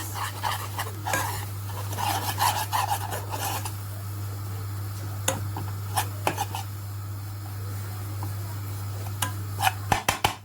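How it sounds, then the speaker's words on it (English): Melted butter and plain flour being mixed in a pan over high heat, heard as rough, repeated scraping and rubbing strokes over a steady low hum, with a few sharper knocks toward the end. "So on a high heat, I'm just going to mix this."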